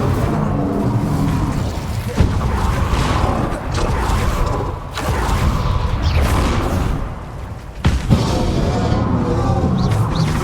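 Incendio fire spells cast during combat in the Hogwarts Legacy wizard video game, a continuous roaring rumble of flame and booming impacts with a few sharper bursts, loud and close over the whole stretch.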